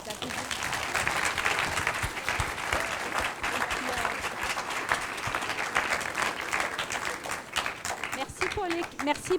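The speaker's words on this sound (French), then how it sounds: "On peut les applaudir." Audience applause after a round table discussion fills the room, steady dense clapping that holds at full strength for about nine seconds.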